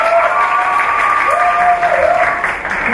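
Students applaud loudly at a pet festival talk show, a thick continuous wash of clapping close by, with a faint tonal voice or whistle-like sound threading through above it.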